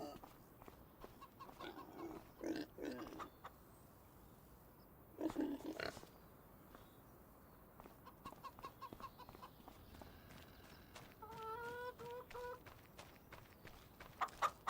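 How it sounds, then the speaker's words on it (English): Pigs grunting and chickens clucking on a farm in Farming Simulator 25, scattered bursts of animal calls over a quiet background, faint and at mid distance. "We've got the pigs in here."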